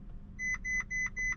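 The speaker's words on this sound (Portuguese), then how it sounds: "Ele apita, eu devo esperar as luzes pararem." A Ferrari 458 Italia gives four short, identical electronic beeps at an even pace while starting up, clear and close over a low background rumble.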